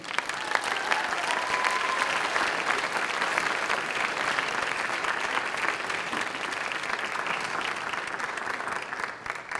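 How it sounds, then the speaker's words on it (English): Sustained applause from an audience at a high school Christmas concert as choir alumni are called up, dense steady clapping with crowd noise that holds at full strength throughout. "Let's give them a round of applause."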